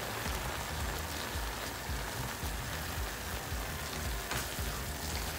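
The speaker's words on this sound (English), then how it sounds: "Add some butter for a nice buttery flavor." Butter sizzling and crackling in a pan with apples for apple pie French toast, a steady dense frying hiss throughout, close and fairly quiet, with no voices.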